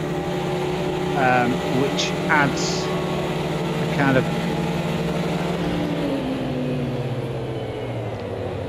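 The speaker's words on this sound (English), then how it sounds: "you hear the distinct sounds of the other cars" Other race cars in the Automobilista 2 racing game drone steadily in the background, a continuous layered engine hum with shifting pitch heard beneath someone talking throughout.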